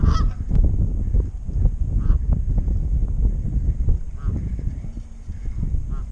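A goose honks repeatedly and loudly at close range beside a kayak outdoors, giving a run of harsh, uneven calls over a constant background rumble.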